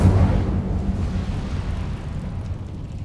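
A roaring, rumbling fire blast from the Incendio spell in Hogwarts Legacy, loud and dense at the start, then trailing off into a sustained crackling rumble with no speech.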